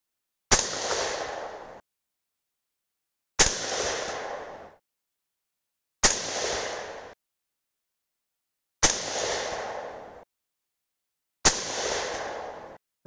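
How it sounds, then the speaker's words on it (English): .223 Rem rifle firing 75gr Hornady BTHP loads with VihtaVuori N140 powder at an outdoor range, five sharp loud reports evenly spaced about three seconds apart, each with a short decaying echo and silence between. "So I shot one sighter round just off into the berm."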